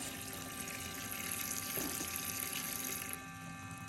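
Steady stream of water runs from a kitchen sink faucet while fruit and vegetables are washed, a continuous quiet hiss and splash with a brief extra splash partway through and a slight drop in flow near the end.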